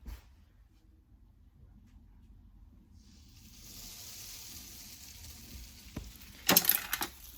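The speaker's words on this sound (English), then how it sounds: "you can hear the bread it is cooking on the nice hot pan with a little bit of oil on top" Unleavened bread frying in a hot pan with a little oil, a soft steady sizzle that rises after a quiet start, with a few sharp clatters near the end.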